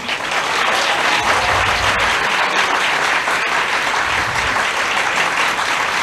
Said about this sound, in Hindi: इस बात पे सबसे ऊंची ताली बज रही है